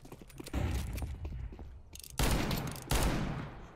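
Gunfire from a revolver in Counter-Strike 2 sounds as a few sharp, loud shots with bursts around the middle of the clip and near the end, set against busy game background noise.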